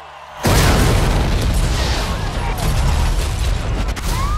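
A loud, booming explosion from a film trailer about the Boston Marathon bursts in after a brief lead-in, then rumbles on as heavy, sustained roaring noise.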